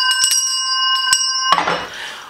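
A bell rung as a cue for King Ahasuerus during a Queen Esther storytelling session: a few bright, ringing strikes close together, followed by a burst of noisy crowd sound.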